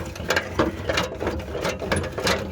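A hand ratchet clicks rapidly in repeated short bursts while 10 mm bolts are loosened under a Lexus GX 470, close and moderately loud.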